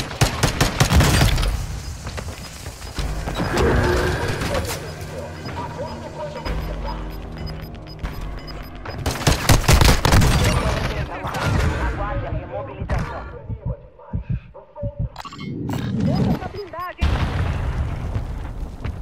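Grenade and Semtex blasts mixed with bursts of gunfire in Warzone, loud booms and crackling shots piling up through most of the stretch, with voices speaking over the chaos.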